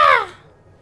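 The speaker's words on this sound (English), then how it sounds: "I'm sorry the caw is loud." A single loud crow caw, harsh and close, fading quickly into near silence.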